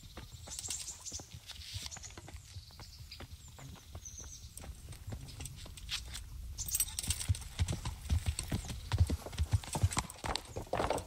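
Horse hooves clip-clop steadily in the medieval RPG Kingdom Come: Deliverance, a continuous walking rhythm over a low ambient bed that grows busier toward the end.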